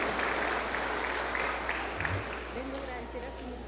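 A church congregation applauds in praise of Jesus, a steady wash of clapping filling the room at moderate level, with a voice speaking through it toward the end.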